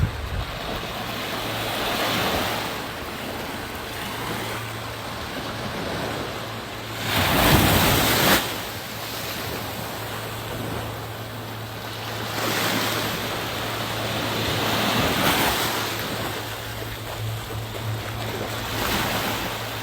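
Ocean waves and a boat wake off Fitts Village break and wash in a continuous surf roar, with louder swells cresting every few seconds, a low steady engine-like hum beneath and wind rushing over the microphone.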